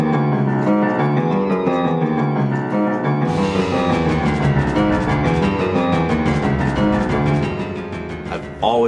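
Instrumental game music with low piano notes driving the bass line and a fuller arrangement entering partway through, playing continuously without any voices.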